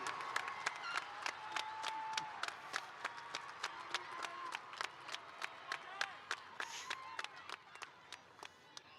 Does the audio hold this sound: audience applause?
yes